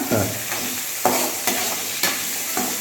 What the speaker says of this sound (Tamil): தேங்காயும் பொட்டுக்களையும் போட்டு ஒரு அஞ்சு நிமிஷம் வதக்கிடலாம்